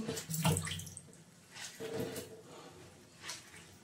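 Tap water runs in a home kitchen during washing up, in three uneven bursts of splashing flow at moderate distance, with no talking over it.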